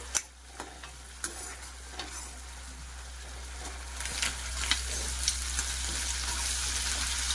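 Prawns frying in a pan, a steady hiss of sizzling oil that grows louder toward the end, broken by sharp scrapes and clicks of stirring, with no voices.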